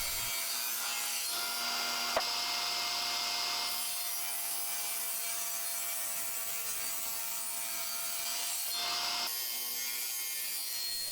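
A handsaw cuts through the wooden fence of a miter sled in steady back-and-forth strokes, a close, continuous rasping with a brief pause near the end.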